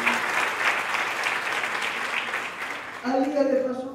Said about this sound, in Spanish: Un fuerte aplauso al Señor por su amor